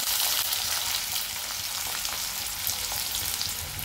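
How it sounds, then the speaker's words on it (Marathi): Chopped onion dropped into hot oil with crackling mustard seeds sets off a loud, steady sizzle that fills the clip without a break, close and continuous with no voices, while cooking a ridge gourd chutney. "मोहरी तडतडली आहे, कांदा टाकून घेऊ आपण।"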